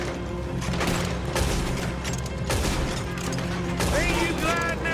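Gunfire in Red Dead Redemption, a steady, dense clatter of shots and booms with voices talking and shouting over it.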